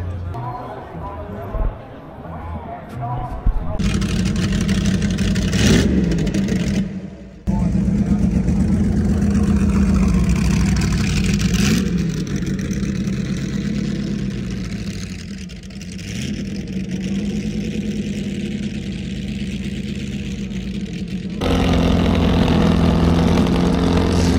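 A big classic car V8 engine with a custom exhaust rumbles loudly at idle for a long stretch, with a brief cut-off and a few revs rising above the steady low throb.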